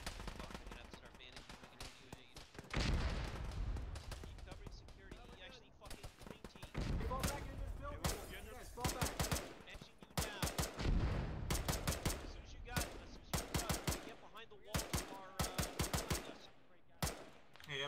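Bursts of machine-gun fire from a building in a military video game crackle on and off for many seconds, some shots close and loud, others more distant, with voices talking intermittently.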